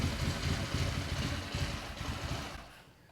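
A 1981 Honda CM200T Twinstar motorcycle engine idling just after being revived, a rough low rumble that runs steadily, then fades toward the end.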